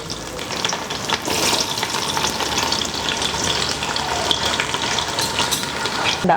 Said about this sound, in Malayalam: ഇനി ഇതിപ്പോ പട്ട, ഗ്രാമ്പു ചൂടായി വരുമ്പോ അതില് ഒണിയൻ ഇടുക